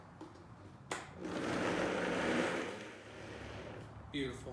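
A blender purees butter chicken sauce in a loud, steady whirring burst of about three seconds, starting abruptly after a sharp click and stopping near the end, with a brief spoken word just before.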